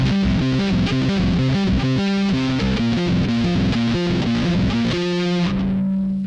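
Bass guitar played through a Tech21 Frank Bello StreetDriver48 distortion pedal, with the bass and highs rolled back slightly for an old-school tone: a loud, continuous run of driven, gritty notes that ends on a held tone.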